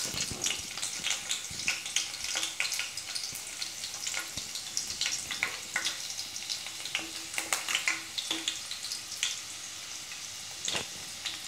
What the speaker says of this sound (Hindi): तेल के अच्छे से गरम होने पर हम इसमें बारीक कटा हुआ लहसुन डालेंगे।